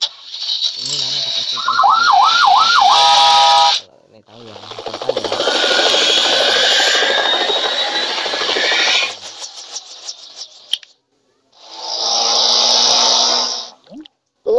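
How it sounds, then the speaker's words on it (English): Police car siren in a kids' car video game: a short wavering siren over loud game noise, followed by long stretches of rushing, rattling sound effects and a final burst, with no speech. "Police car."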